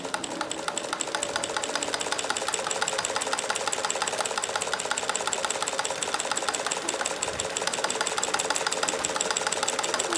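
Sewing machine fitted with a walking foot feeding fabric through, a continuous rapid rhythmic chattering hum throughout, close and steady with no pauses.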